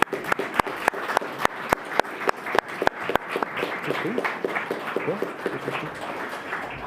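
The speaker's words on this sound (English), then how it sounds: "So you deserve a second round of applause." A second round of audience applause for the female summit managers at a European summit in Prague: a few loud, separate claps at first, then a dense, even patter of many hands that thins toward the end.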